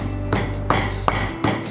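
Black peppercorns are crushed in a mortar with four evenly spaced, solid pounding thuds over a steady low hum.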